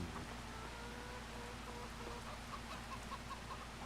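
Chickens cluck softly in the farming game Farming Simulator 25, quiet scattered clucks under a constant rain-like background hiss.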